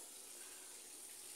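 Washing machine filling with water, a faint, even hiss of running water that holds steady throughout, heard alone.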